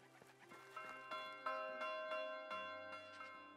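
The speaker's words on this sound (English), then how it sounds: "has this really awesome bell here" A village bell in the game Medieval Dynasty rings in slow, steady strokes, each clear tone ringing out and fading, over a soft background hum.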